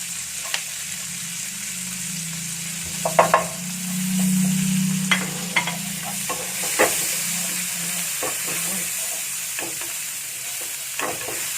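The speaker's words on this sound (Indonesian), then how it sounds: "Kita aduk sebentar sampai ada harum" Shrimp heads frying in a pan give a steady low sizzle. A spoon scrapes and clatters through them in scattered bursts, close up, with no voices.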